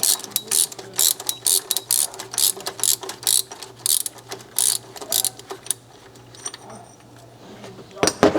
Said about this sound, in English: we need our 19mm socket. And just unscrew it.